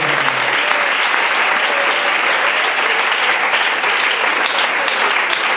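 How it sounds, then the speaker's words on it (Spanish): A church congregation at a baptism service claps loudly and continuously, a dense, even wash of applause filling the space with no pause. "Denle ese aplauso al Señor"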